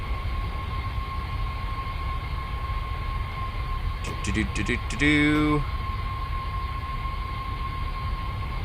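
A train in the Train Simulator game running fast along its route, a steady rumble under a short burst of horn-like tones partway through.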